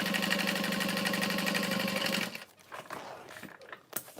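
A sewing machine runs steadily for about two seconds, stitching a waterproof canvas tote bag with a fast rhythmic hum, then stops, leaving faint handling clicks and rustles.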